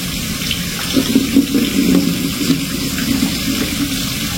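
Water pours steadily over used tea leaves, a continuous close splashing stream like a running tap lasting several seconds with no talking.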